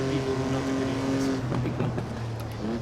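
A racing car in a video game drones with a steady engine tone, then shifts pitch as it accelerates through gears, heard over background noise.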